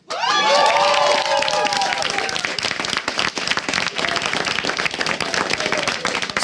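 A live StarCraft 2 esports crowd at IEM Cologne bursts into loud, sustained applause and cheering, with dense clapping and whoops filling the hall; an announcer's voice briefly rises over the start before the noise carries on steadily.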